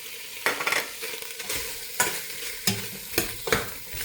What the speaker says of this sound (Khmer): ឡូវខ្ញុំឆាសាច់មាន់ហើយខ្ញុំមានបកាក្រៀមទេបងប្អូន